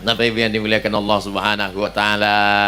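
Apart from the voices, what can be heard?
No distinct noise like a dog, phone or traffic.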